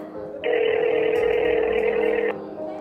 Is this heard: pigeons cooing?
no